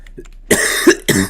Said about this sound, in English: Okay, why am I coughing so much now?